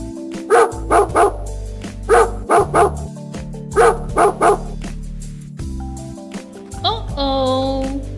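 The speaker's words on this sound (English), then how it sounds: "The dog barks." Dog barking in quick bursts of two or three sharp barks, repeated several times over a light musical backing, followed by a high whining yelp near the end.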